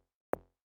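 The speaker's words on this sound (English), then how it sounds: "Then you add a click sound on top, which sounds like this." A single short, sharp click layer for a techno kick drum, a bright tick with a quick decay, faint and isolated in silence.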